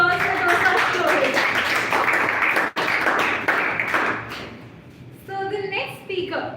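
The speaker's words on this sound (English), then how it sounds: "a huge round of applause for Dosa's story." A Toastmasters club audience claps after a member's speech, with dense clapping for about four seconds that thins out, followed by a voice speaking near the end.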